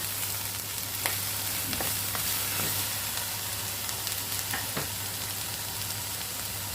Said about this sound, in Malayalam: ഇതൊന്ന് വഴന്ന് വരട്ടെ